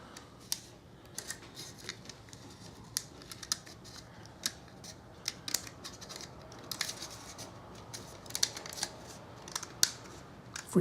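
Scissors snip through a plastic Subway cup at close range, a series of short, crisp cuts and plastic crackles at an irregular pace, quiet and with no voices.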